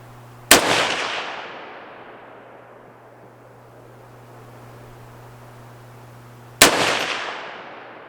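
Two rifle shots from a Palmetto State Armory PA-10 Gen 3 with a Ballistic Advantage barrel, each a sharp loud crack followed by a long fading echo, about six seconds apart, over a steady low hum, no talking.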